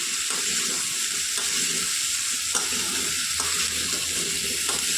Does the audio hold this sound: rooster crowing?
no